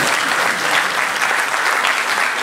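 Audience at the opening ceremony of the Africa IT & Telecom Forum breaking into steady, dense applause, a full room of hands clapping continuously at close range with no voices on top.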